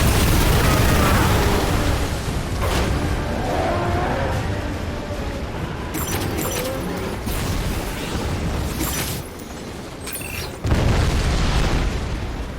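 A huge cannon blast at the core of the Red Eyes in the Lost Planet 2 video game, a dense wall of booming and rumbling explosions. It stays loud throughout, with sharp bursts and crackles breaking through.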